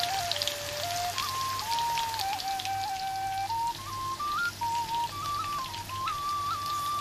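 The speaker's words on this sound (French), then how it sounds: "Plongez donc les boulettes dans l'huile" Spicy Thai laab tod pork meatballs dropped into boiling oil, frying with a dense, steady patter of crackles over a constant background, alongside a wavering whistle-like tone.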